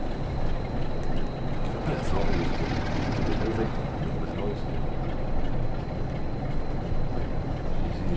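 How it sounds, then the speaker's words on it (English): A Class 47 diesel locomotive in Train Sim World 6 throttles up near Shap Summit, its engine a steady, loud, dense rumble that continues unbroken throughout. "Give a bit of throttle, keep it moving, make a bit of noise"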